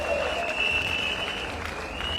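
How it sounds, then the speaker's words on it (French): Applause from the audience at a party federation's sixth ordinary congress, a steady, moderately distant wash of clapping under a faint whistle-like tone, with no pauses. "Nous vous demandons très respectueusement d'applaudir pour ces camarades bâtisseurs"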